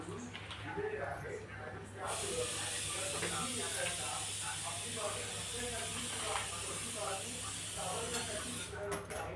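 Chopped spinach hits a hot pan and sets off a sudden loud sizzle. The hiss holds steady for several seconds beneath a speaking voice and then cuts off near the end.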